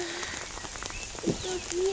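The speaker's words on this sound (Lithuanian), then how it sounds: "O Jėzu, kaip lyja." Heavy rain falling outdoors, a dense steady patter and hiss on surfaces, with brief faint voices in the background.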